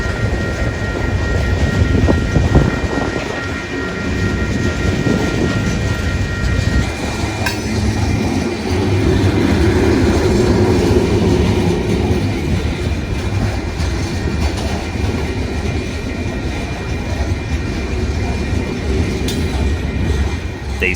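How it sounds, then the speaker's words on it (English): A loaded coke freight train bound from Rosemount, Minnesota toward Chicago rolls past steadily and loudly for the whole stretch, its wagons rumbling with a continuous low roar and faint rhythmic wheel clatter, with no voices. "a loaded coke train out of Roseport, Minnesota, heading for Chicago to be handed off to CSX"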